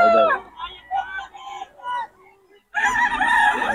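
Young roosters crow loudly and close by at a chicken market in Bocaue, one long crow followed by another, with crowd chatter and people talking in the background.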